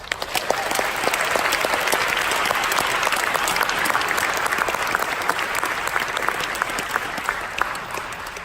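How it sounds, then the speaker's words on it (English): Steady, dense applause from a lecture audience for a speaker at UNC Pembroke, a continuous wash of many hands clapping at even loudness, with no talk over it. "I feel like he deserves more applause than that"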